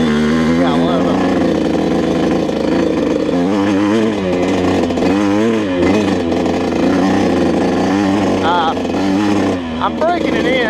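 A Yamaha YZ125 dirt bike with a fresh Vertex piston top end is ridden gently during break-in, its engine buzzing loudly and steadily with repeated rises and falls in revs, while a rider talks over it.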